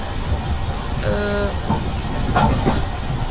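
Train arriving at Tegal station, a rumbling carriage with hiss and brief squealing tones over a steady background roar.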